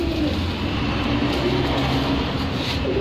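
Pigeons of Chapra and Sialkoti breeds coo softly amid a dense, steady rumble of background noise, several birds blending together without pause.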